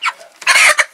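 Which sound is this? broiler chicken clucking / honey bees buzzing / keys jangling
broiler chicken clucking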